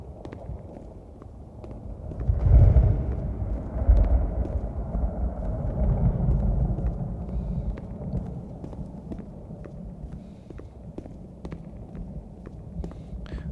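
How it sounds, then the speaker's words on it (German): Thunder from a storm in The Beginner's Guide rolls as a low, distant rumble that swells twice early on, then fades into a faint steady hum with scattered soft ticks. "Gewitter."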